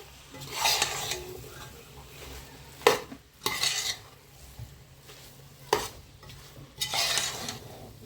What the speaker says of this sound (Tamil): இப்போ வந்து இதை வந்து கிண்டிக்கலாம்